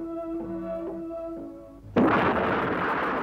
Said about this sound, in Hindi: 24 मार्च 1858 को झांसी की प्रसिद्ध तोप घन गरज ने अंग्रेजों की सेना पर गोले बरसाने शुरू किए।